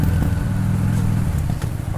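A Honda Shadow VT 600 motorcycle rumbles steadily on a short ride, a close, continuous low engine drone with slight fluctuations.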